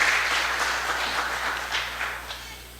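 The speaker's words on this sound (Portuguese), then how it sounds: "Aplauda o Senhor Jesus mais uma vez." A church congregation applauds during an Apostolic worship service, a steady wash of many hands clapping at moderate loudness for a few seconds with a low constant hum beneath.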